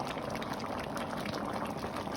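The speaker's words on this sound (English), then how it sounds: "Here's my stew peas cooking, bubbling" A pot of Jamaican stew peas bubbles as it cooks on the stove, a steady close simmering burble with soft popping throughout.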